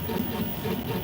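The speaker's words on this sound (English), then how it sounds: "You hear a constant hum." Steady, dense mechanical hum of the noisy machinery keeping a Mars habitat running, a continuous low drone with no breaks, fairly loud and alone.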